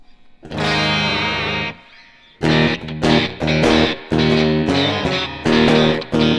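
An electric guitar through a '65 Super Reverb amp model rings out with a sustained chord, then a run of rhythmic strummed chords, bright and full with a slight amp grit.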